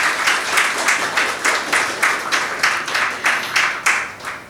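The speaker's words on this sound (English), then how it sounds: "Please, so give her a round of applause." An audience at an annual general meeting bursts into applause, a dense stretch of clapping that rises and falls in quick waves, close and fairly loud, with no talk on top.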